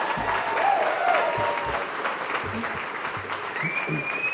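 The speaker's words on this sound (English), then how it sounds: "Please give her a round of applause" An audience at an appreciation dinner applauds a woman being honoured, with dense, continuous clapping that swells early and holds steady, plus a few brief voices and whoops mixed into the crowd noise.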